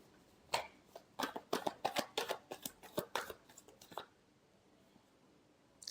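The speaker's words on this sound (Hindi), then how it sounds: "Last shuffle." Tarot cards being shuffled by hand, a rapid run of crisp riffling and flicking bursts for about three seconds, then a few scattered taps before quiet.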